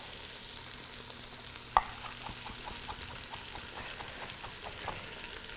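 Peppers frying in a pan as they are stirred: a steady soft sizzle with a sharp clack of a utensil early on, followed by light rhythmic scraping and stirring, fairly quiet, no talking.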